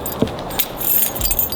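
Keys jangle in a few short metallic bursts aboard a narrowboat, close and moderately loud over low background rumble, with no talking.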